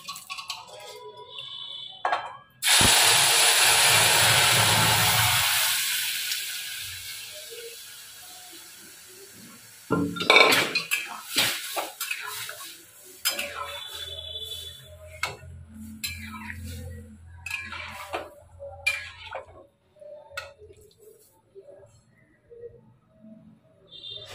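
Lentils poured into a hot pot of tempered spices while cooking paneer at home, giving a loud sizzling hiss that swells suddenly and fades over several seconds, followed by scattered clinks of utensils against the pot.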